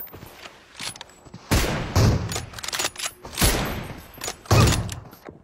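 Sniper shots from an M24 rifle ring out in the mobile battle game BGMI, several sharp booming cracks spaced a second or so apart, each with a short rolling tail, over a quiet game background.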